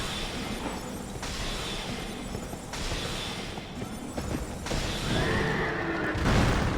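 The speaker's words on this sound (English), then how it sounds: "Just be careful of the fact that the horses can charge." Horses neighing and whinnying in the dark fantasy video game Dark Souls II: Scholar of the First Sin, set against a dense rumbling game soundscape that swells louder near the end.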